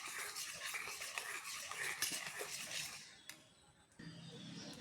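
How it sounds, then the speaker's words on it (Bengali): Yogurt being mixed with milk powder and baking soda for gulab jamun batter, steady scraping and stirring in a bowl, fairly close and continuous with a few light clinks, no talking. "দইয়ের সাথে সব কিছু দিয়ে ভালো করে মিক্স করে নিচ্ছি।"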